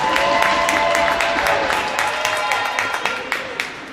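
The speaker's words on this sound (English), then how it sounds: "Please give a round of applause for Connor." Crowd applause fills an ice arena on a college men's hockey senior night, dense steady clapping that holds loud and then thins slightly toward the end, with a few sharper individual claps standing out.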